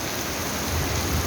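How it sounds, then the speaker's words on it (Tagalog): Heavy rain falls without pause during a Philippine night, a thick, close, even hiss of downpour drumming on surfaces with no one speaking. "Walang tigil yung ulan, walang tila."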